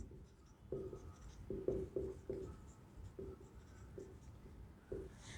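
A pen scratches out short strokes on paper during a math lesson, several brief bursts close by and quiet, with no talking.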